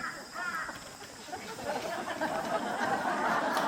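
A human voice imitates a crow's raspy cawing, giving a few rough, noisy calls at moderate loudness over a hissy room background.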